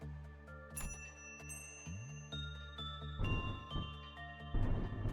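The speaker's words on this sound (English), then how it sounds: "An invisible bell resounds two pleasant, high-pitched rings." In the video game Limbus Company, clear high-pitched bell tones chime over a steady humming ambient drone, with bright pleasant rings standing out against the background.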